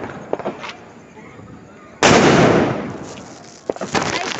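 Diwali firecrackers bursting outdoors: a sharp, loud blast followed by a crackling roar that fades over a couple of seconds, with a few smaller pops before and after amid faint background voices.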